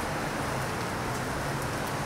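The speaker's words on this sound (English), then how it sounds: "Here with all this torrential tropical rain." Torrential tropical rain in Puerto Rico falls as a steady, dense hiss, a broad continuous wash with no speech over it.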